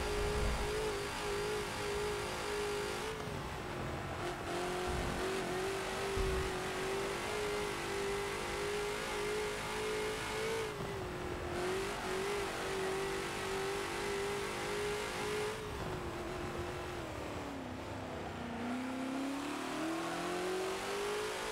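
A Ford GT40 engine roars steadily in Forza on the Nürburgring Nordschleife, its pitch rising and falling as the throttle eases off into corners and builds again, loud and continuous throughout with no voices.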